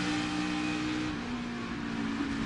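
NASCAR Cup Series race car engine from on board as the driver lifts off the throttle, a loud steady mid-pitched engine drone that eases slightly without sharp revving, no voices.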